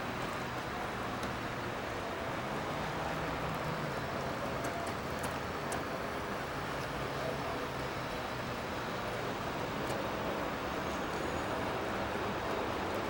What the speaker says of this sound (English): It's very rainy today.